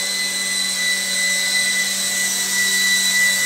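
A 4DRC M5 4-channel RC helicopter hovers and circles indoors, its motor giving a steady, even electric whine with a high tonal hum that holds without pause and no talk.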